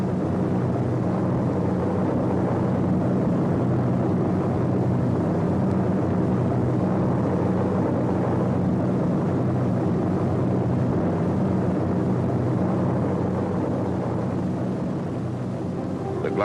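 Propeller tow planes pulling gliders over Normandy on D-Day make a loud, continuous engine drone that holds steady throughout, with no talking.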